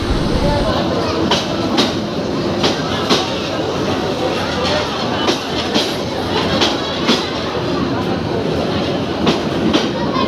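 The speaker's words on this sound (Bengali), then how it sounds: "প্রায় দুই ঘন্টা পর আমার ট্রেনটা প্রবেশ করতেছে প্ল্যাটফর্মে" A train arriving at a station platform rumbles steadily nearby with rhythmic wheel clatter and occasional clicks, loud and continuous throughout, with faint voices in the background.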